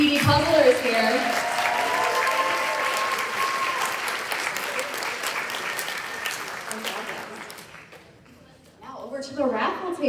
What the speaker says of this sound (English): A round of applause again for our speedy puzzlers here.